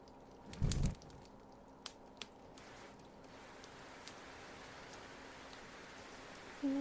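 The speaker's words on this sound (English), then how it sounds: "Here comes the rain again." Rain falls in a soft, steady patter, faint and continuous, with a few brief louder knocks and crackles breaking through near the start and end.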